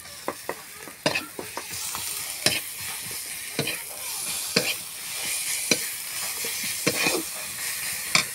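Garlic paste fries with browned onions in a pan for a snakehead-fish dish. A steady hiss and sizzle runs throughout, punctuated by frequent sharp spatula scrapes and taps at an irregular rhythm, close up and without speech.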